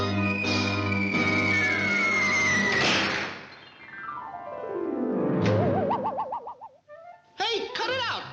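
A cartoon pigeon in the 1942 Looney Tunes short A Tale of Two Kitties coos in warbling, wobbly bursts after a sliding, descending swoop of sound effects, loud and close with music under it.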